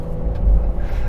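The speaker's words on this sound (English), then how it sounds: "The engine is so rambunctious in this car" A 2022 Honda Passport Trailsport engine roars at full throttle while driving through sand, a loud, low, continuous rumble heard up close inside the vehicle.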